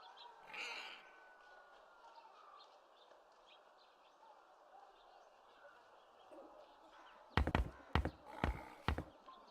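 Crows caw harshly in a short burst of several calls near the end, after a long quiet ambient stretch with a faint cry early on, in the video game The Dark Eye: Chains of Satinav.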